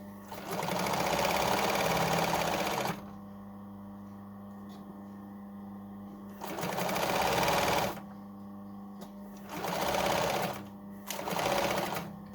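Domestic sewing machine stitching the centre back panel of a hoodie hood, reversing at both ends, in several bursts of rapid even whirring separated by pauses filled with a steady low hum.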